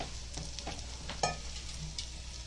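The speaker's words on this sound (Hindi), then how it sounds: "अभी वटाना डालेंगे और थोड़ा सा और गलाएंगे इसको।" Dried peas cook in a masala in a village-style Konkani kitchen, with a soft steady sizzle of frying and a few scraping stirs of a spoon against the pot, one sharper clink near the middle.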